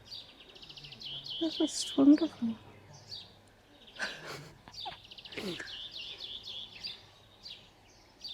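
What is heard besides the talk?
birds singing in a garden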